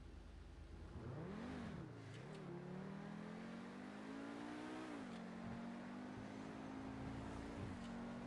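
Car engine in GTA Online revving up and down, then holding a steady high drone, alone and fairly quiet throughout.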